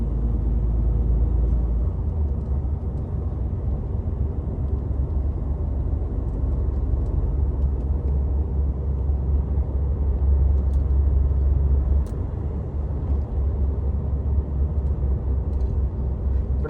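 A truck pulls away from a parking spot in the morning. Its engine gives a steady, close, low rumble throughout, with faint scattered clicks above it.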